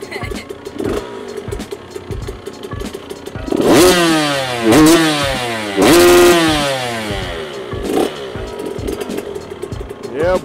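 A KTM 85 two-stroke dirt bike engine revs up and down repeatedly, its rising and falling buzzing whine loud and close, with crackling idle between the bursts and people talking nearby.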